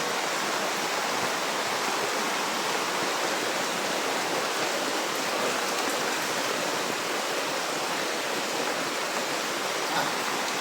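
Steady, heavy rain: a dense, even hiss that holds at the same level throughout, with no pauses or voices.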